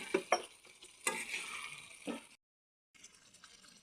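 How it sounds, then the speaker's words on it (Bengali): Fish frying in hot oil along with onion and garlic, a crackling sizzle broken by a few sharp stirring clacks, cutting out briefly before the frying noise returns; no one speaks. "কিন্তু এইগুলিও ভাজা হবে, সাথে পেঁয়াজ রসুনগুলিও ভাজা হয়ে যাবে।"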